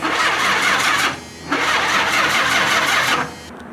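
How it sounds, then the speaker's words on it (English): A car's starter cranks loudly twice, two long grinding churns separated by a short pause, from a vehicle with a weak, not fully charged battery, close by and with no talk over it. "He's gonna try to turn on his car."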